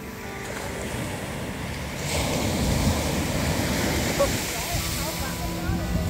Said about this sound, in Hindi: समुद्र जितनी ज़्यादा आवाज़ कर रहा है उतना ही खतरनाक है